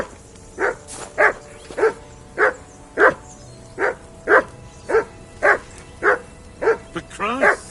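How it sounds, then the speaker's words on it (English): A dog in a video game barks repeatedly at a steady rhythm, about a dozen sharp evenly spaced barks, close and fairly loud, ending in a whining yelp over faint background game ambience. "Call off that damn dog before he wolfs down the last of our meat."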